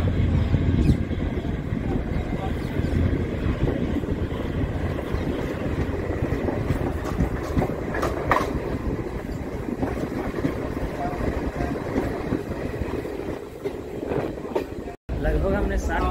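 Inside a moving Ajmer–Jaipur passenger train, a loud, continuous rumble of wheels and carriage rattle runs throughout, with a voice talking over it and a brief dropout near the end.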